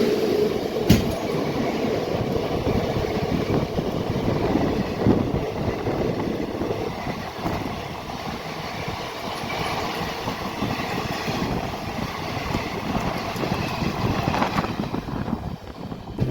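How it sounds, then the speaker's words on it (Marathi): A Londa–Miraj passenger train hauled by a WAG-9 electric locomotive passes close by on a monsoon-soaked line near Dudhsagar, a steady loud rumble of wheels and carriages rolling continuously without pause. "आता समोरून क्रॉसिंगसाठी येत आहे लोंढा मिरज पॅसेंजर वॅग 9 लोकोमोटिव्ह सोबत"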